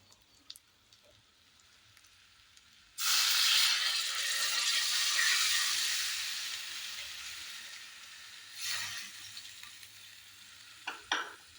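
Brinjal frying in oil in a pan bursts into a loud, hissing sizzle as water is added, then the steaming hiss slowly fades with a few later stirs and clinks.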